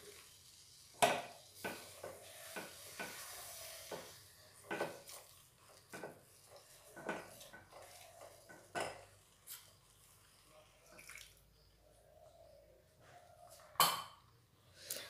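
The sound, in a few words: mixing semolina dough in a bowl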